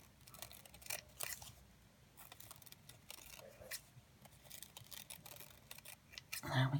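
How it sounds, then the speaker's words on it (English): Scissors snip through crepe paper squares for rosettes, a run of quick, crisp cuts with brief pauses, fairly close, ending in a louder rustle and clatter; a voice is faintly present at times. "I'm just going to cut this down."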